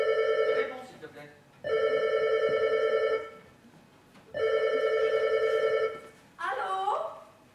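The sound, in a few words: telephone ringing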